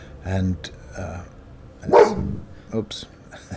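A dog barks a few times in the background while a person talks over it, the barks short and sharp.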